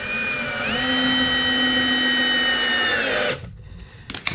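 A cordless power drill drives a screw into a cedar picket board, a close, loud whine that rises in pitch and holds steady for about three seconds before cutting off.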